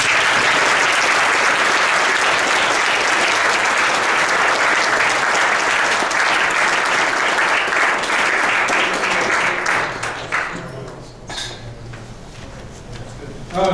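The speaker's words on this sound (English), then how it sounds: "let's give them a round of applause" A meeting audience breaks into loud, dense applause that holds strong for about ten seconds, then thins and fades into scattered claps with a few voices and clinks of dishes in the room.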